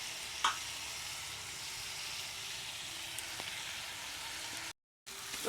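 Meat being sautéed in a pan for a meat curry gives a steady soft sizzle with a faint hiss, unbroken except for a brief dropout near the end, with no voices.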